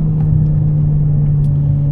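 Steady, loud engine drone inside a Volkswagen MK6 GTI with a big turbo and limited-slip differential, a constant low hum and road rumble while cruising.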